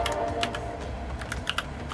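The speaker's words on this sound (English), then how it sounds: "I am typing it out very carefully." Computer keyboard typing during a password reset, steady close key clicks in an irregular rhythm with a few sharper, louder strikes, no voices.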